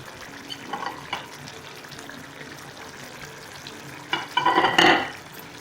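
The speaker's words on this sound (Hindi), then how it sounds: "तो मैं अब इसके अंदर ये सारी वेजिटेबल्स ऐड करके बस हल्का सा मिक्स करूँगी" Vegetables get stirred into BBQ chicken masala in a hot pan, with soft scraping and light sizzling that builds to a louder burst of stirring and frying near the end.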